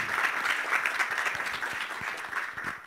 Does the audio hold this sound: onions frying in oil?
no